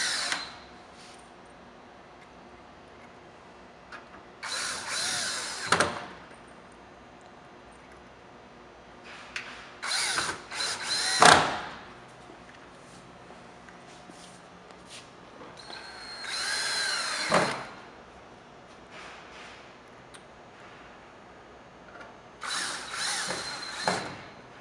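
Power drill driving wood screws into a wall to secure an electric fireplace firebox, five separate whirring bursts of a few seconds each with quiet pauses between, fairly close.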